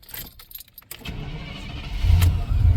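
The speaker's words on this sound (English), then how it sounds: "Listen to this thing crank over." A 2002 Chevrolet Silverado engine cranks over on a new starter, with rattling noise at first, then a loud, steady churning crank that grows heavier toward the end.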